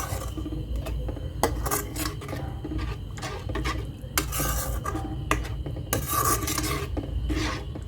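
A spoon scrapes and stirs through egg kurma with coconut and water in a metal pan, rasping strokes repeating irregularly with occasional sharper clinks against the pan, close up and without talk.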